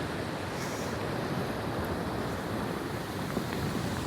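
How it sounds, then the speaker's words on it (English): Big sea waves surge and crash along the Holderness coast, a steady loud roar of surf mixed with wind buffeting the microphone, continuous through the whole stretch with no talking. "Big wave coming in here."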